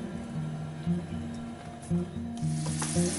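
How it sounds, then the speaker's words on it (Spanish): Garlic and bay leaf frying in oil make a soft sizzle beneath background music, with a few light clinks partway through. "Ponemos a freír un ratito los ajos y el laurel"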